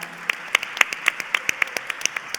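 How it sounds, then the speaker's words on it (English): A small audience at a women's leadership summit claps in sparse, distinct hand claps, a loose rhythm of individual sharp claps rather than a dense roar. "Can we also get a round of applause for her?"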